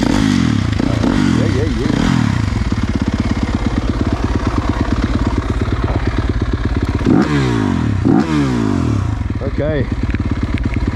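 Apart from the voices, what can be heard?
Yamaha YZ motocross bike engine running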